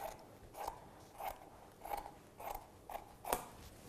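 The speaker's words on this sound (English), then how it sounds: "we'll just cut this little bit off" Scissors snip off a small scrap of extra fabric while a DIY dry erase board is being made, about six crisp separate cuts at a steady, unhurried rhythm, close and fairly quiet, with no talking.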